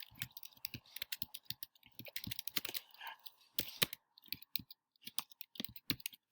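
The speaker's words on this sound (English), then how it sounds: "my typing is horrible." Fast, uneven typing on a computer keyboard, with clusters of light clicks and brief pauses, close and fairly quiet with no talking.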